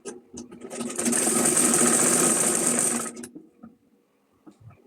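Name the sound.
sewing machine stitching a cloth bag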